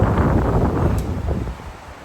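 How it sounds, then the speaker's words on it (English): Strong wind blows outdoors on a very blustery day, a loud, low rumbling roar buffeting the microphone continuously and easing slightly toward the end. "it is absolutely windy"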